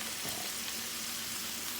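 Shrimp for jambalaya fry in a pan with a constant close sizzle, a bright spitting hiss that holds steady from start to finish with no voices.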